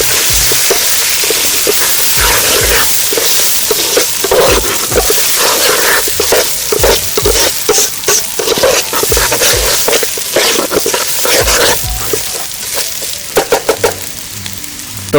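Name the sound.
marinated rice and raisins added to pot and stirred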